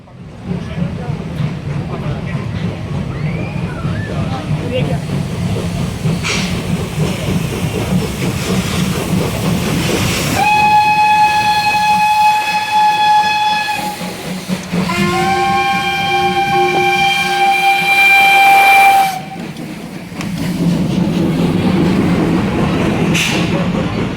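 Steam locomotives, coupled engines with tenders including ones from Wolsztyn and Chabówka, rumble past at the 2015 Parowozjada steam parade with a continuous heavy roar, while two long whistle blasts sound in the middle, loud and nearby.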